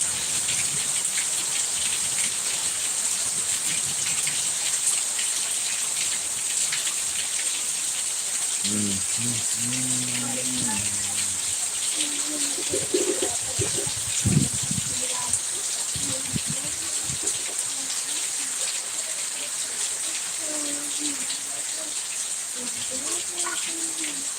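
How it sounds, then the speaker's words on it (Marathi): Heavy unseasonal rain pours down steadily after falling all night, a dense, even hiss of drops with running water, and voices speak briefly partway through. "भरपूर पाऊस रात्रीपासून पडतो आहे"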